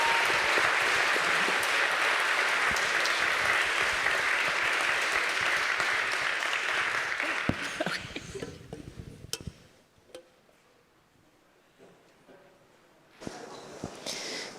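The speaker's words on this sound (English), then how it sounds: "another round of applause for our great panelists" Audience applause for a panel at a political evening event, a loud sustained crowd clapping that fades out midway and gives way to near quiet with scattered small noises.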